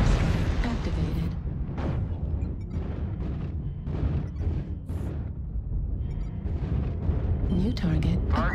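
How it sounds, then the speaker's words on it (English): Deep booming artillery-strike explosions in a video game, a dense rapid barrage of blasts and crackling bursts that continues throughout, loud and close, with intermittent voices over it. "Artillery strike activated."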